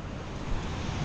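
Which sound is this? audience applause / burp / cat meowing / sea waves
sea waves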